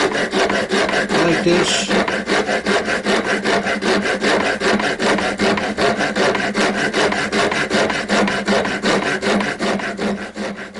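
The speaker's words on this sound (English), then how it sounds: "I've started filing it down" Steady rapid rasping of a file against a wooden chess knight piece spinning on a lathe, loud, close and continuous throughout, with a brief spoken remark near the start.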